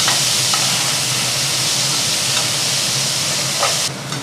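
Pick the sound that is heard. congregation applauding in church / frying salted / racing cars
frying salted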